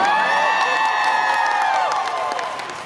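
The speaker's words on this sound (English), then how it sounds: "Why are you not all cheering right now?" Convention panel audience cheering and whooping, a steady crowd roar with scattered high shouts that fades slightly toward the end.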